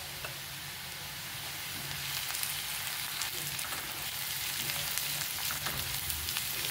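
Onion with turmeric and asafoetida frying in a pan for groundnut amti, a soft steady sizzle with faint occasional stirring clicks, quiet and close, no voices.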